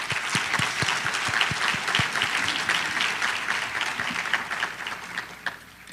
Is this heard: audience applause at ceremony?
yes